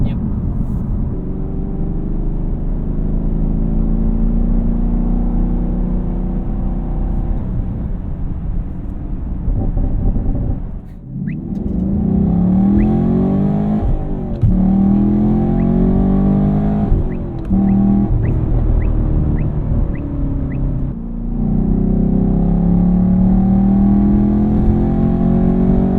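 A 2019 Chevrolet Camaro SS 1LE with a big V8 drones loudly and steadily while driving, its low rumble rising and falling through shifts, with people talking over it inside the cabin.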